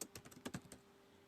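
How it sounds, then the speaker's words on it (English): Someone types a short burst of quick keystrokes on a computer keyboard, faint and close, then the sound stops and only quiet room tone remains. "I don't know why I keep typing like that."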